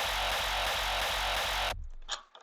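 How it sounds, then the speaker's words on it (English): Self-made kick drums thump in a steady pattern of about four per second under a dense, sustained wash of sound, then cut off abruptly, leaving quiet scattered bits. "these kicks, I did make them myself. They sound like this."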